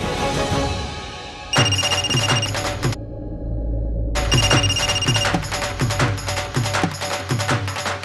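A telephone rings in repeated bright electronic bursts, loud and close, with a short pause between rings and no talking.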